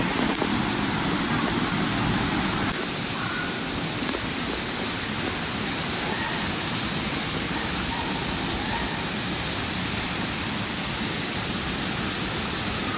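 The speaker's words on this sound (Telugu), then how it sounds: "ఆ సైడ్ నుంచి కూడా మీకు చూపెట్టబోతున్నాను, అంటే వాటర్ ఎలా పడుతుందో" A steady, broad roar of Wankidi waterfall in Asifabad fills the whole stretch, loud and continuous, with a brief shift in tone near the start.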